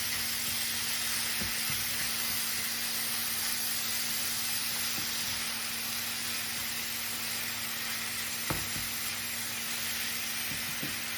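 Ground lamb and onions fry in a pan with a steady, even sizzling hiss, broken by a few faint clicks and knocks.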